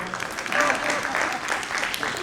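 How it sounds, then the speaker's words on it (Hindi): Audience applause at the Aakhar Uttar Pradesh Festival during an Awadhi poetry session, a steady wash of clapping held for a couple of seconds at moderate distance with no voices over it. "जो हम बात का कहें एक बार एक ताली हो जाए"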